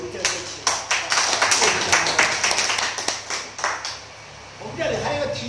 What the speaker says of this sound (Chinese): 所以我们希望我们再给张博士鼓鼓掌